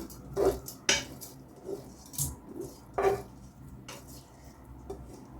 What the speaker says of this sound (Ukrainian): Все перемішую.